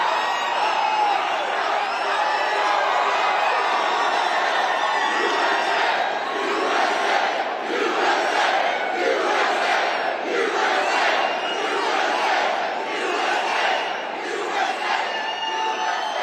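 A large crowd at a Donald Trump political rally in Richmond, Virginia cheers and shouts loudly and continuously, a roaring wall of voices with rising whoops throughout.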